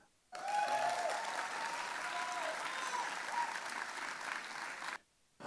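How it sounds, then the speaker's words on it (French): An audience at a slam poetry grand final bursts into loud, dense applause after a poet's performance, steady for several seconds, then cuts off sharply into near silence. "On l'applaudit encore, s'il vous plaît."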